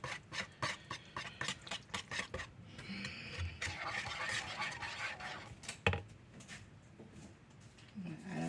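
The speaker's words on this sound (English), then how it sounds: "And just whisk it." A whisk scrapes quickly around a bowl as cinnamon is mixed into a mixture, producing fast rhythmic clicking strokes at close range, fairly quiet, with a short pause partway through.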